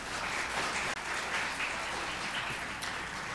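Audience applause at a college festival award ceremony, a steady dense wash of clapping that holds throughout at moderate distance, with no speech over it.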